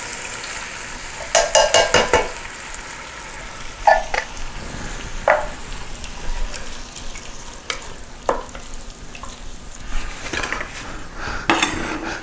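Canned diced tomatoes poured over browned garlic in a stew pot, giving a loud, steady sizzle with scattered clinks and scrapes of a spoon against the pot, close up and without talk.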